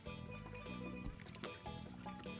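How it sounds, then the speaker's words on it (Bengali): Tangra fish get a final rinse with water in a bowl, faint splashing and sloshing with small gurgles in a quiet kitchen. "এবারে আমরা জল দিয়ে লাস্টবার ধুয়ে নিচ্ছি"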